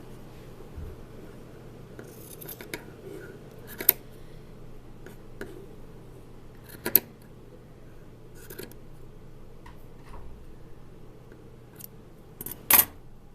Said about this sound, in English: trim the strings so that they're even